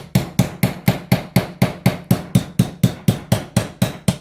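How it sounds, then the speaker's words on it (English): Metalwork hammer pounding a copper disc cutter to punch out a small circle of copper, struck in a fast, steady run of about seventeen loud, sharp metallic bashes, close up with no talking. "I'm going to use my metalwork hammer to have a good old bash at this"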